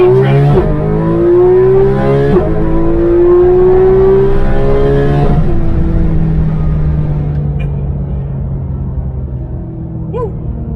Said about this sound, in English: we will leave you with some 4-liter music before this little thing ends